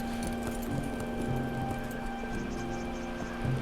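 Horse hooves clip-clopping at a slow walk amid a tense scene, a few soft hoofbeats under a steady background hum, faint and without talk.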